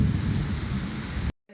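Heavy, steady rain pours down loudly with a dense low rumble that may include thunder, then cuts off abruptly near the end into near silence.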